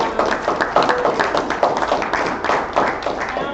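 Applause from a council meeting audience for the town clerk, steady dense clapping from many hands throughout, fairly loud and continuous.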